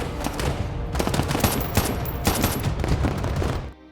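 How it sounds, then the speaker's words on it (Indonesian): Rapid bursts of gunfire crackle back and forth in dense volleys during a film shootout between police and gangsters, loud and close, with a brief high whine, then cut off abruptly. "hingga terjadi aksi tembak-tembakan"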